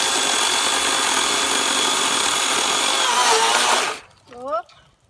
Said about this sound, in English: It's a cobalt chainsaw.